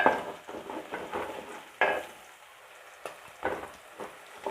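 Onions and green chillies being sautéed in a pan for a fish curry, with soft intermittent scraping and stirring strokes over a light sizzle, nearby and fairly quiet.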